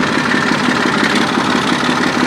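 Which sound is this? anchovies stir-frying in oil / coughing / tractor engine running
tractor engine running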